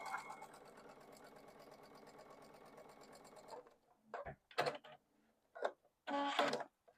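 Sewing machine stitching a quarter-inch quilt seam, a steady fast mechanical whir for several seconds, then stopping into short bursts of handling noise and brief rustles.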